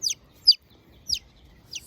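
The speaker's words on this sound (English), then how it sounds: "my daughters have a few baby chickens" A baby chick peeping, four short high-pitched chirps spaced about half a second apart, close and clear over quiet background.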